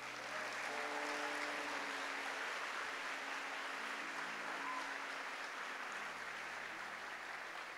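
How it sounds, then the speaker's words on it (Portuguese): A church congregation applauds in a long, steady wash of clapping, heard at a distance and fairly faint, with a faint sustained tone beneath it. "Dá uma salva de palmas para Jesus aí"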